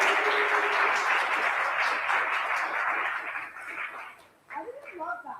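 A large conference audience cheers loudly on cue, a sustained roar of voices and clapping that holds for about four seconds before fading, followed by scattered whoops and shouts.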